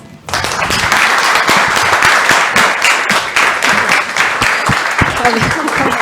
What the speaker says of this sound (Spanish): Así que yo le pido un fuerte, pero fuerte aplauso y de pie a Mayra Arenas